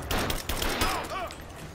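A rapid burst of gunfire rattles in Rise of the Tomb Raider, several quick close shots in a tight cluster followed by a whistling ricochet-like tone, with a voice speaking over it.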